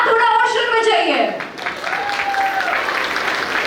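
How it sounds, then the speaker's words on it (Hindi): Guests clapping at a sangeet ceremony, steady full applause throughout, with a singing voice over the start and a brief whistle-like tone under the clapping. "तालियां बजती रहनी चाहिए।"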